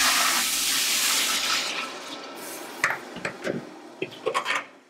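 Hot water for green tea pours in a steady hissing stream, fading out after two seconds, then a few close light knocks and clinks of a kettle or cup follow.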